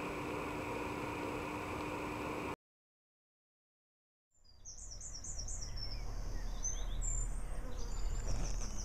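Honeybees fly around beehives in an apiary on a cleansing flight, a steady buzzing swarm that cuts out, then returns and builds, with birds calling over the hum.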